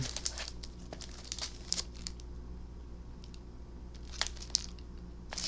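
Paper slips with game names are shuffled by hand, giving crisp crinkling bursts that come in irregular clusters, close to the microphone, with no talking.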